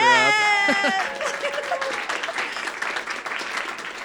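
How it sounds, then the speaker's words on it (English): An audience at a film festival Q&A breaks into applause, scattered clapping rising after a brief tonal sound at the start, with a voice or cheer mixed in early on. "Yeah, maybe give a round of applause for my wife."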